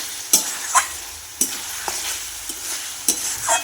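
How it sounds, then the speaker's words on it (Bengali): A spiced curry is sautéed in a pan, with a spoon scraping and stirring in repeated strokes over a steady low sizzle, close and clear with no voices. "এখন কষে নিচ্ছি, সব কিছু দিয়ে দিলাম"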